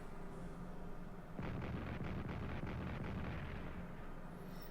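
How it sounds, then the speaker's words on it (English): Artillery fire in the World War I strategy game Strategic Command rumbles in as a dense burst of deep booming blasts after a quiet start, loud and sustained with no talking. "Also artillery attack in Gaza."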